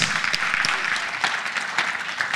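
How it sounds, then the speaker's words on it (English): An audience at a church conference claps, a dense patter of hands with a few sharper individual claps standing out, fairly close and continuous throughout. "Clap your hands."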